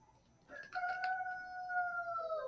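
A rooster crows once at close range, a long loud call that rises and holds before trailing off, with only faint background noise around it.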